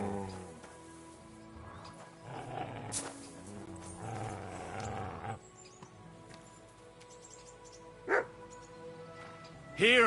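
Dog barking in the medieval video game Kingdom Come: Deliverance, with scattered yips and barks over game sounds and a few loud sharp bursts near the end.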